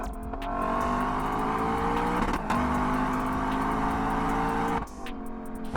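A 2025 Lexus LC 500 V8 revs hard toward its 7,300 RPM redline, a loud, close howl climbing through gears with short dips at shifts.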